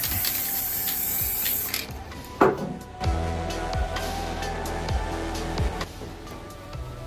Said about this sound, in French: Vous voyez que la bombe est en train de me lâcher en direct. On va maintenant mettre une touche de beige.